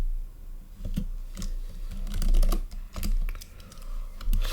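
Someone types a password on a computer keyboard in a quick, irregular run of close key clicks over a low background hum, with no talking.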